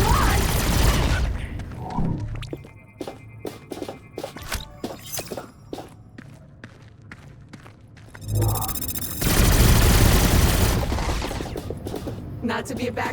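Gunfire rattles through a session of the video game Revenge of the Savage Planet as the player shoots at mods, with dense bursts of shots and impacts in steady volleys, loudest near the end, over a busy game soundscape.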